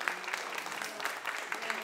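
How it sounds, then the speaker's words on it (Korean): Audience applause at a history museum talk concert, a steady wash of many hands clapping, moderately loud, with a voice faintly audible beneath it. "관장님한테도 크게 박수 한번 주시고요"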